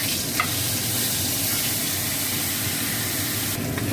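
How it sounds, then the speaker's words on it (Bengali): Rohu fish pieces fry in hot oil in a pan, giving a steady, dense sizzle and crackle that holds close and loud for the whole stretch, with no voices. "নিয়ে এরকম করে আমি সব মাছগুলো ভেজে নেব"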